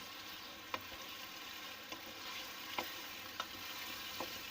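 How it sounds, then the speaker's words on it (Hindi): Minced meat fries in a pan with a constant quiet sizzle, punctuated every second or so by light scraping stirs of a spoon, close but soft. "कीमे की अच्छी तरह भुनाई कर लेंगे।"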